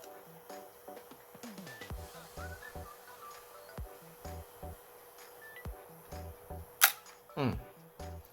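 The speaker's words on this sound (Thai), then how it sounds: "ขึ้นทามเมอร์กดชัตเตอร์ปุ๊บ ทามเมอร์วิ่ง" Faint mechanical whirring and small clicks of a Nikon FE film camera self-timer running, ending in a sharp shutter snap and a brief rattling whir, all quite close.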